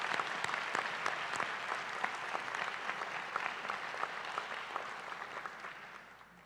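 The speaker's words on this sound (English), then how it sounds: "Graduates, please join me in giving yourselves and all of your supports another round of applause." Graduation audience at a winter nursing school pinning ceremony applauds steadily for several seconds, a dense wash of many hands clapping that fades slightly at the end.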